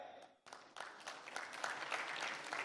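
An audience at a live event breaks into applause, a dense patter of many hands clapping that starts abruptly after a brief quiet moment and stays steady, moderately distant in the room.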